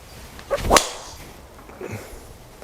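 A golf ball struck off the tee with a Cobra F9 driver, one sharp, loud impact followed by a brief whooshing trail and a faint later rustle outdoors.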